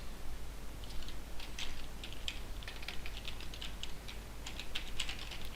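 Fingers type text on a computer keyboard during Photoshop design work, a brisk irregular run of light clicks in short bursts, close and clear over a low steady hum, with no talk.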